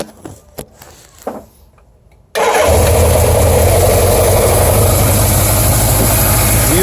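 After a few quiet clicks and shuffles, a Suzuki GS850 motorcycle engine, fitted with a 750 head, cranks to life and settles into a loud, steady, rumbling idle close by.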